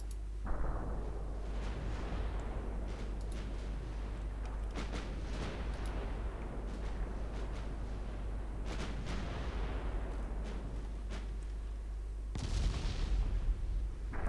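Heavy naval gunfire from 11-inch guns in the warship game Ultimate Admiral Dreadnoughts, a dense rolling rumble of booms with sharper blasts near the start and again toward the end.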